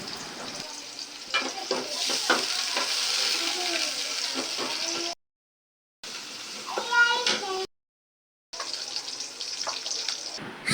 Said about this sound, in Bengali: এখন পেঁয়াজটা ভেজে নেওয়া হবে।